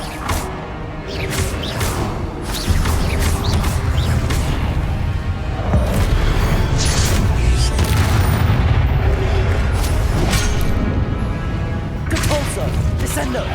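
Loud, dense magical blasts and booming impacts from spell-casting combat in Hogwarts Legacy, coming in rapid succession with whooshes and crackling bursts over continuous low rumble, while a voice shouts spell names throughout.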